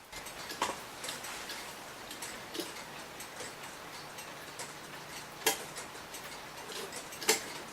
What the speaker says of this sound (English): see if you can get the even tick-tock sound